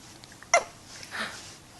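A baby gives one sharp, sudden hiccup, close and clear, followed by a soft, quiet vocal murmur in an otherwise calm room.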